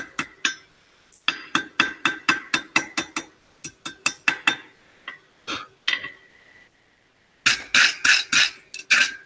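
A hammer strikes a metal ring on an anvil in quick bright metallic clinks, repeated in bursts with short pauses, ending in a dense run of ringing blows.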